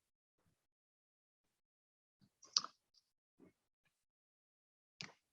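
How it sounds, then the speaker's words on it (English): A computer mouse gives a few faint, sparse clicks in near silence, spread unevenly over several seconds. "All right, so I'm clicking on the image."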